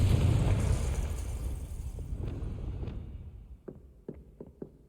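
A Confringo blasting spell explodes in the Hogwarts Legacy video game, a loud broad boom that rumbles and fades over a few seconds, followed by several sharp small pops or impacts near the end.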